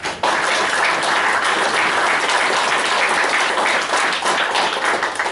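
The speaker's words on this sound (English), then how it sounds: "giving them another round of applause" A loud, steady round of applause fills a Board of Trustees meeting room as attendees clap for newly promoted faculty, dense and continuous from start to finish.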